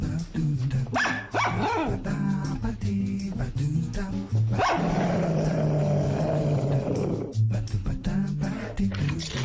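A dog in a French television commercial barks loudly and growls in repeated bursts, close and aggressive, with snarling stretches between the barks and brief voices around it.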